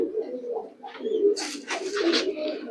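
Loft racing pigeons cooing close by in a steady run of low coos, joined partway through by bright fluttering or scuffling, with no voices.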